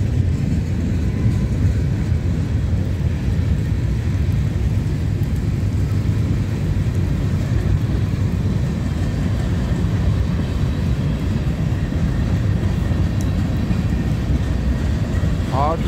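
A freight train of grain cars rolls past in the rain, a continuous low rumble with steady rain hiss throughout and no clear individual clanks.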